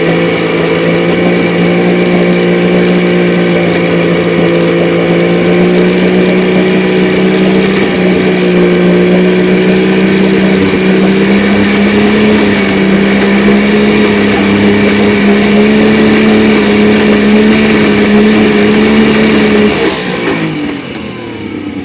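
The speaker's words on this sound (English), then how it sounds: "You can't beat the sound of a two-stroke, especially a throaty one when it starts sucking through that airbox" A throaty two-stroke engine revs steadily and loudly while sucking through its airbox, holding a rough droning pitch that rises slightly before easing off near the end.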